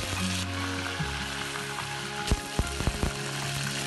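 Curry leaves hit hot coconut oil with mustard seeds in a clay pot, giving a steady dense sizzle and crackle with several sharp pops and spatters partway through.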